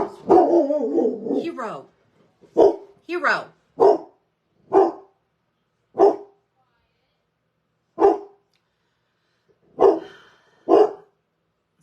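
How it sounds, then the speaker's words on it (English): A dog barks repeatedly, about eight sharp single barks spaced a second or two apart, loud and near, after a brief spoken line at the start. "Someone else is walking a dog."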